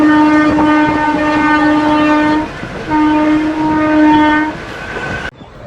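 The Narasapur Express, train 17256, sounds its horn in two long, loud blasts while its cars rumble and clatter along the rails as it arrives at the station.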